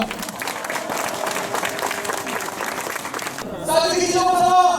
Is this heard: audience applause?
yes